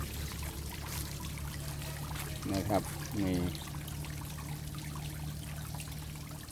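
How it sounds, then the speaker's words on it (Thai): A home-built garden waterfall in front of a small house, fed through a one-and-a-half-inch pipe, gives a soft, steady pour and trickle in the background while someone talks over it. "ก็จะไหลแรงมากนะครับ ก็จะ เสียงจะน้ำตกจะดัง"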